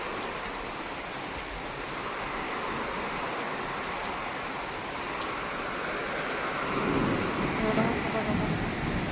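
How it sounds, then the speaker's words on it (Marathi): A sudden heavy downpour with strong wind in Pune makes a steady, dense roaring hiss that holds throughout and swells louder near the end. "पाऊस जोराचा एकदम अचानक पाऊस आला"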